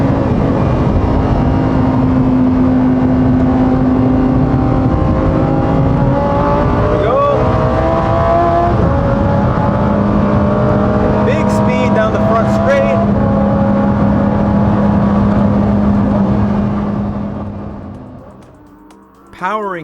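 A 2021 Lamborghini Huracán STO's naturally aspirated 5.2-liter V10 howls loudly on a race track, sustained high revs rising and shifting through gears for most of the run before dropping away, with a voice talking over it.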